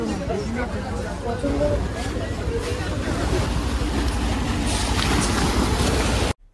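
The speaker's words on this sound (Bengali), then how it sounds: "এখানে আমাদের চোখে পড়ল এরকম প্রচুর মাছ ধরার ভটভটি।" Fishing motorboats at the Digha estuary make a steady low engine rumble mixed with wind and water noise, constant and fairly loud, while people talk nearby.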